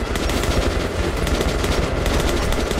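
Rapid automatic gunfire in Metro: Last Light rattles out in loud, dense bursts of closely spaced shots during an all-out firefight, filling the whole stretch without a pause.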